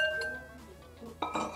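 Sesame seeds toast in a pan while metal and glass clink faintly in a kitchen, with a couple of sharper knocks near the end and no speech.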